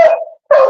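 A dog whimpers twice up close, two high, whiny cries with a slight downward slide, separated by a short silence.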